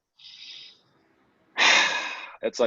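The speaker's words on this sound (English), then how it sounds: "it's an inhale through your nose and an exhale where you tighten up your core and you push out through your nostrils" Ujjayi breathing: a soft nasal inhale, a pause, then a long forceful exhale pushed out through the nostrils, followed by two quick sharp sniffs, close and alone.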